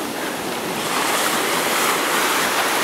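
Waves of the Baltic Sea washing ashore, a continuous broad surf roar with some wind buffeting the microphone, steady and fairly loud with no talking.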